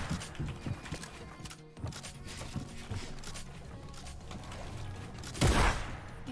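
Gunfire crackles in a video game as a player's weapon shoots, with bursts of rapid shots and scattered single reports over busy game noise, ending in a louder blast near the end.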